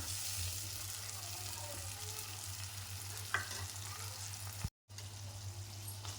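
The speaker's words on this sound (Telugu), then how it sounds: "బఠానీ, కాబోలి శనగలు ఆయిల్లో ఫ్రై అయిపోయాయండి." Green peas and kabuli chickpeas fry in hot oil for Punjabi dhaba-style chole masala, giving a steady close sizzle with a faint stir scrape midway and a brief dropout near the end.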